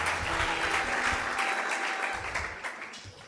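A church congregation at a Pentecost service claps together, lively dense applause that gradually thins out toward the end.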